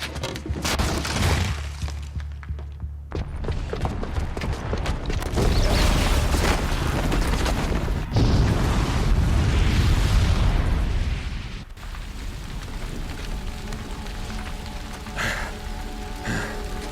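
A booby-trapped bomb blows up in Horizon Zero Dawn, a loud sustained roar of explosion and crumbling debris that surges, cuts off abruptly, then gives way to a quieter rumbling aftermath.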